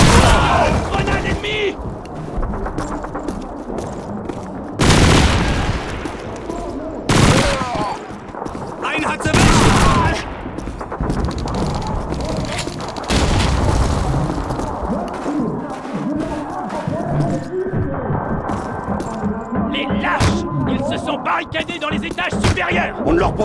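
In the Call of Duty 2 video game, an enemy grenade blasts with heavy booms amid bursts of rifle and machine-gun fire, loud and chaotic, with voices shouting over the battle.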